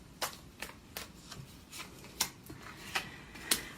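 Tarot cards are shuffled close up in quiet, irregular bursts of crisp riffling and slapping, about eight distinct flicks, with no talk.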